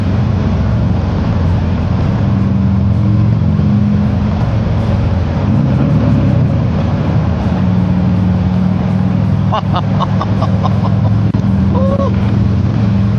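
A Harley-derived engine on a rare used motorcycle drones steadily while ridden through a tunnel and shifted down a gear, heard from the rider's position under heavy wind rush, with brief tonal chirps near the end and a voice speaking faintly.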